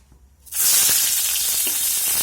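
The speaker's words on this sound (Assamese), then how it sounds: "এতিয়া মই পিঁয়াজখিনি দি দিম" Onions dropped into hot oil for a chicken curry burst into a loud, steady sizzle that starts abruptly after a quiet moment and holds as a dense hiss, with a few faint stirring knocks.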